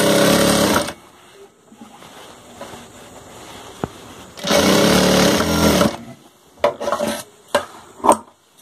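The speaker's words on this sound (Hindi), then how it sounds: "एक साइड का जांग को सिलाई करेंगे बराबर से रख करके" Sewing machine stitching one side of a cotton wrestler's kachha, with two long loud runs of steady motor whirring separated by quiet handling, then several short stop-start bursts at the end.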